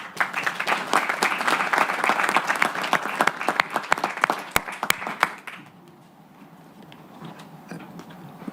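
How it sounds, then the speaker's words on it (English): An audience at a UN global summit event claps loudly and densely for several seconds, then the applause thins to a few scattered claps and fades away. "Let's give him a round of applause."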